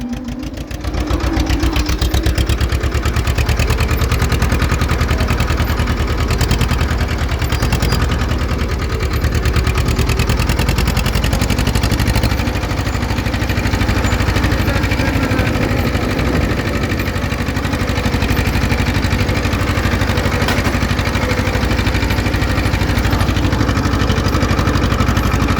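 A tractor engine runs in a farm field, a loud, steady mid-pitched diesel drone with a constant rhythmic chug throughout, close to the listener and with no talk over it.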